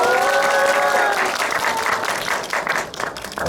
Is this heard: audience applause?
yes